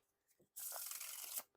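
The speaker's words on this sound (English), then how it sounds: "the riffle shuffles and bridge shuffles" A deck of Forest playing cards riffle-shuffled and bridged gives one brisk, close, fluttering burst of card riffling lasting under a second, preceded by faint handling clicks.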